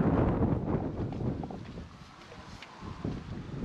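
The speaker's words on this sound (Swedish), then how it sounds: "nu har vinden vridit lite och ökat mycket och kommer nu snett framifrån vänster" Strong wind buffets the microphone beside a lake during a fishing competition, a loud rumbling gust at first that eases and then swells again, with no voices.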